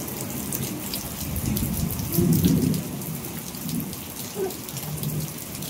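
Steady rain patters on surfaces, with low rumbles of thunder rolling in the distance.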